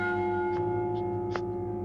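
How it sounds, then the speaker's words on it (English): Deep church bell tolling the hour, a sustained low hollow ringing hum with slow resonant swells, heard alone and fairly close. "He spoke before the hour bell sounded, which it now did, with a deep, dull, hollow, melancholy one."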